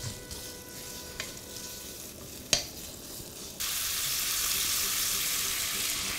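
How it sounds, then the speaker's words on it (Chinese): A sharp clink sounds in a quiet kitchen, then cured pork hits a little hot oil in a wok and bursts into a loud, steady, hissing sizzle that continues to the end. "锅里放一点点油，然后刚才准备好的腊肉下锅"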